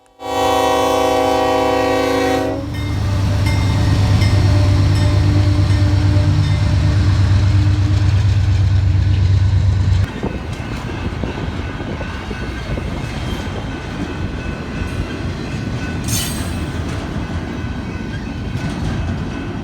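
A freight train with reefer cars sounds a long, loud horn, then rolls past close by with a steady rumble and rhythmic clatter of wheels over the rails.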